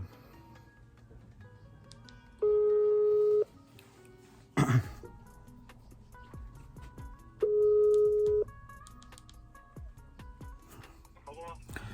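A telephone ringback tone sounds over speakerphone during a call about buying potatoes, two long steady tone bursts separated by a pause, with a brief rustle between them and quiet room noise in the background.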